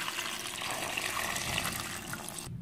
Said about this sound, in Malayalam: എന്നിട്ട് ഇതിലേക്ക് ആവശ്യത്തിന് വെള്ളം ഒഴിച്ച് കൊടുക്കാം.